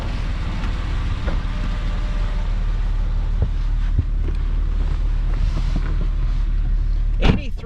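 A 2008 Porsche 911 997 Carrera 4 convertible with a 4.0L engine and six-speed manual pulls away, a low steady engine drone under wind rush, ending in a sharp bump and clatter near the end.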